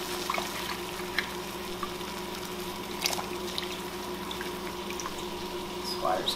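Raw potato slices tipped into a pot of boiling water for blanching: a steady bubbling, sizzling hiss fills the clip, with a few small splashes and clinks rising above it near the middle and end.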